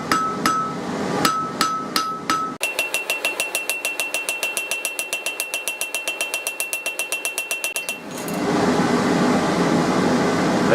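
Blacksmith's hammer forging a double hook, working the cut face with the end of the hammer: a few heavy separate blows, then a fast steady run of ringing metallic strikes for several seconds, ending in louder roaring noise.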